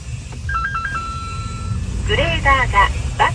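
Electronic reversing beeps from a vehicle's back horn, a short run of repeated tones sounding fairly close, followed by a person talking over low vehicle rumble.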